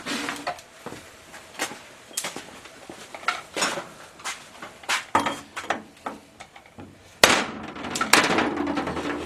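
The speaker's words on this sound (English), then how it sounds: "This is just a welder's chipping hammer and a soft mallet." Welch plugs being knocked out of a shift cover during an SM465 transmission rebuild, using a welder's chipping hammer and a soft mallet, giving a series of close, sharp metallic taps and clinks at an uneven pace, ending in a louder cluster of strikes.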